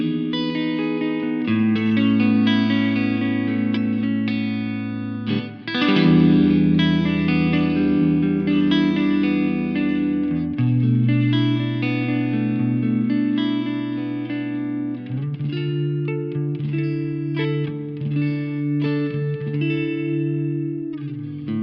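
Electric guitar run through a Two Notes Genome reverb effect plays dark, moody sustained chords and melodic lines, the notes blooming into a wide wet tail, loud and continuous with no talking.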